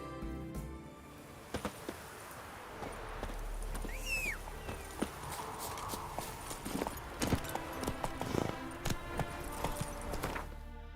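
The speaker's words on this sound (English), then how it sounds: "Run, Roach" Hooves of the horse Roach clip-clopping at a gallop in the video game The Witcher 3: Wild Hunt, quick rhythmic thuds with scattered louder hoof strikes, fairly close, alongside in-game ambience and a brief whistling tone.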